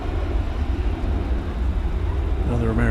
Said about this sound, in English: We got a plane going out, plane coming in.